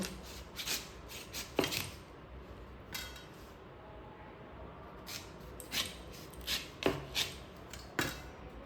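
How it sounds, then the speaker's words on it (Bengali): A knife cuts through raw green mangoes on a board, making intermittent crisp slicing and scraping strokes in short irregular bursts with quiet pauses between, close and fairly soft. "এখন আমগুলো কেটে নেব। মুখের দিকটা বাদ দিয়ে আমগুলোকে কেটে নেব।"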